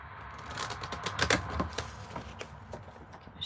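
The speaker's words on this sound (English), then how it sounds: "Shuffle one more time because I love to shuffle." A deck of oracle cards is shuffled by hand, giving a quick, close run of papery riffling and tapping that peaks midway and then thins into scattered soft clicks.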